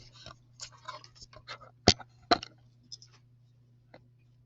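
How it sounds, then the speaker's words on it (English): Pen writing down a measurement on paper, a string of light close scratches and taps with two sharper clicks, over a faint steady hum. "I'm going to write this down"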